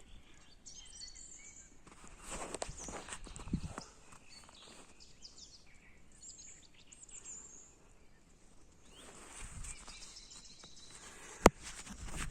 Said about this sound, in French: Les oiseaux chantent. Il y a beaucoup d'oiseaux.